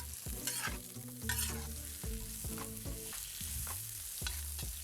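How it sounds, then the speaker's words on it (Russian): Onions and carrots being stirred in a sizzling pan, a spoon scraping and knocking in several quick strokes over a steady close frying hiss, with no voices. "не забываем перемешивать лук и морковь"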